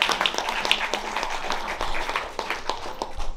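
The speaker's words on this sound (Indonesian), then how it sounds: "Boleh kasih tepuk tangan dulu dong." Guests applauding at a birthday party for a mother: scattered clapping from a small crowd, steady and moderately close, lasting a few seconds with no clear talking.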